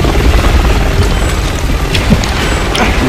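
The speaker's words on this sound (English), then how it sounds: "Don't let the helicopter follow you." Helicopter in the video game Resident Evil 6: a loud, continuous rotor and engine roar with heavy low rumble, steady throughout with no pauses.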